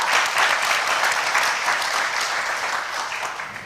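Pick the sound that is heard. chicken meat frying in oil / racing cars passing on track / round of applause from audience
round of applause from audience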